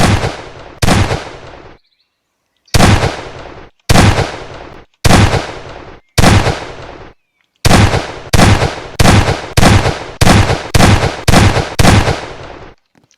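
Double barrel shotgun firing in Garry's Mod within RetroStudio, loud sharp blasts with abrupt cutoffs, a few spaced shots and then a fast run of rapid repeated ones.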